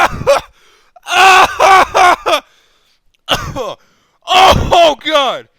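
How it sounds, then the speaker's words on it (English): A man chokes on a sip of water that went down the wrong pipe, with bursts of strained gasping, groaning and throat-clearing coughs in several loud close spurts separated by short pauses. "That shit went down my breathing pipe."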